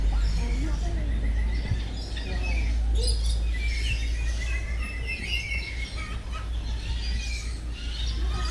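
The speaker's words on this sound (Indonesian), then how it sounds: "Tuh di atas ada burung lagi tuh di atas tuh." Birds chirp and tweet inside a walk-through bird dome at the Baby Zoo of Taman Safari, with several calls overlapping above a steady low hum and faint background voices.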